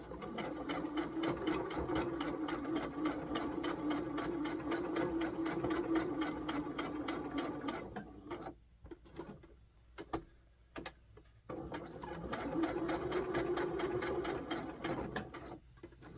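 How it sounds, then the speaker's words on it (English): Sewing machine stitching a doll dress for Terri Lee dolls, running in a steady rapid mechanical patter, pausing for a few seconds with scattered single clicks, then resuming at full speed, close and clear. "I'm just sewing a 1/4 of an inch inseam."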